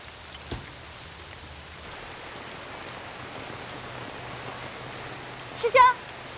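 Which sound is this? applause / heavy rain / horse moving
heavy rain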